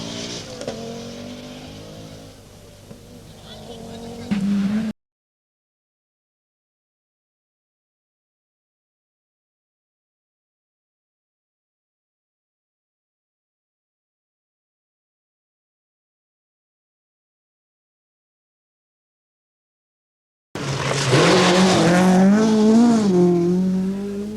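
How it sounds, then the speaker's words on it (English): Audi Quattro rally car prepared by David Sutton, on a stage of the 1982 Circuit of Ireland rally, driving fast: loud close engine revving and accelerating with tyre squeal, heard in two bursts separated by a long silent gap. "Hannu Mikkola, who sets fastest time here in the David Sutton prepared Audi Quattro"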